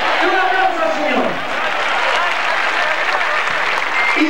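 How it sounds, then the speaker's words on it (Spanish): An audience at a 1998 evangelistic church campaign in Santiago, Chile applauds in a steady, dense wash of clapping, with a voice calling out over it at the start. "Un aplauso al Señor."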